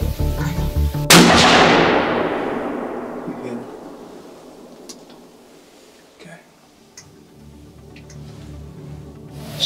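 A single loud, close gunshot from a youth hunter's rifle during a hunt in brushy country, a sharp crack that decays in a long rolling echo over several seconds, with faint ticks and rustles afterward.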